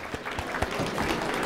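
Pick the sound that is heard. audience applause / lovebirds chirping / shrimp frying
audience applause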